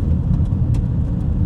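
A faulty car engine with a suspected boost or EGR problem runs with a loud, steady low rumble while the car is driven slowly. Faint rattles and knocks ring above the drone, with no voices.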